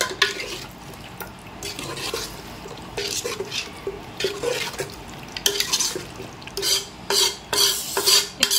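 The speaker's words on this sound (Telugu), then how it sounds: "కర్డ్ వేసాక మంచిగా మిక్స్ చేసుకోవాలి దీన్ని." Thick curd is mixed into raw chicken for biryani, producing wet squelching and slapping strokes that come in irregular bursts, growing louder and more rhythmic toward the end, close up with no talking.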